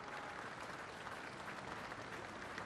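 Steady, dense applause from a large crowd lining the streets of Brisbane for veterans marching on Anzac Day, continuous and even throughout with no voices standing out.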